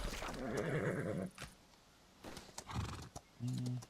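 Video game horses whinny and neigh over clip-clopping hooves, with another short neigh near the end, in the MMORPG Chrono Odyssey.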